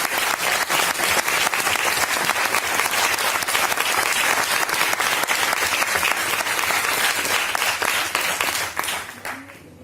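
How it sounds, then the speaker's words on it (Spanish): A church congregation applauds, a thick, sustained wash of many hands clapping together for several seconds before it fades out at the end. "Un aplauso para el Señor."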